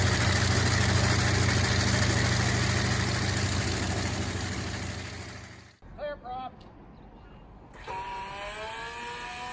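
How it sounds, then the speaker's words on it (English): A Bristol Hercules radial aircraft engine from the World War II era runs with a loud, continuous roar that fades and cuts off, followed by a voice talking in the quiet afterward. "The Bristol Hercules engine demonstration offers a remarkable insight into one of the most iconic radial engines of the 20th century"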